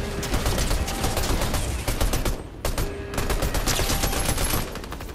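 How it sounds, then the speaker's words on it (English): Rapid gunfire in the Fortnite video game, dense bursts of shots with a short gap midway, loud and sustained, no talking. "Oh, somebody shooting at us."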